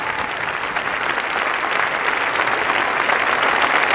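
A crowd at a professional world championship of dance sport at Paris Bercy cheers and applauds the winners, a dense, continuous wash of clapping that swells slightly toward the end.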